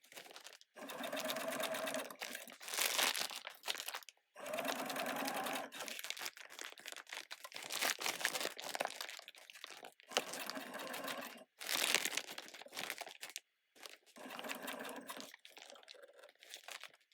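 Sewing machine stitching a seed-sack bag in repeated bursts of rapid mechanical clatter, each a few seconds long with short pauses between, alongside crinkling of the stiff sack material; quiet and close.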